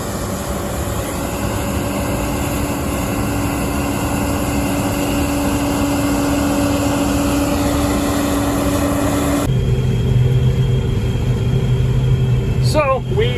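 A combine harvester cuts peas in a Northern Alberta field, a steady droning engine rumble with a constant hum; a person talks over it throughout, and the tone shifts partway through.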